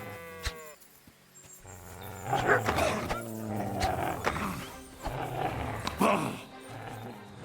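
Growling and snarling wolf calls from Kingdom Come: Deliverance II rise and fall over a busy game soundscape, with a short bark-like yelp near the start.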